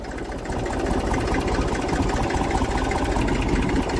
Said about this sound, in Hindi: ट्रैक्टर ऑटोमेटिक गजब चलता है, बहुत बढ़िया बेहतरीन।